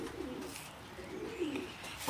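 Racing pigeons at a loft coo softly in low, rolling murmurs that rise and fall in a couple of swells, fairly quiet with light background rustle.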